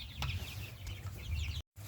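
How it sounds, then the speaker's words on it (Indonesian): Free-range village chickens cluck softly and intermittently at close range, a few short calls over a faint background murmur. "saya memelihara ayam"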